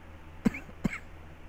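A person gives two short, sharp coughs about half a second apart, close to the mic against a quiet background.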